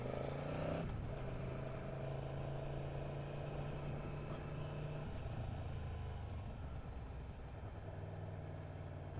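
Aprilia Tuono 1100 Factory motorcycle in track mode, its engine humming steadily and close, with a brief rise early on and a fairly even drone throughout.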